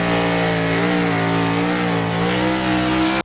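Race cars in a stock car racing video game run side by side down the back straightaway at Charlotte Motor Speedway, a loud, steady, layered engine drone holding high revs without a break.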